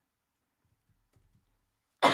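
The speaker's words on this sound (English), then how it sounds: "I always have to cough when I'm streaming" Near silence, then a single sharp cough bursts out close to the microphone at the end.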